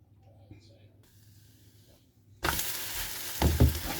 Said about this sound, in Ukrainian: Я завжди на сковорідку, як печу млинці, даю масла трошечки.